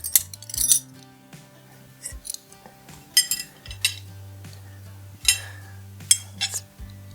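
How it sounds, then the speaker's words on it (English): A dinner knife and a dinner spoon are set down on a table, giving several light metallic clinks and taps spread across a few seconds. A steady low hum runs underneath. "we got that dinner knife and dinner spoon"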